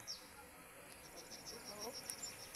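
Faint, steady bee buzzing from the video game Treehouse Tycoons 2, thin high whining tones that waver slightly, heard alone over a soft background hiss.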